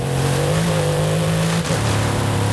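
BMW in Forza Horizon 5 revving steadily with a sustained engine drone, pitch dropping briefly at a gear change before holding again, loud and close, alone without talk.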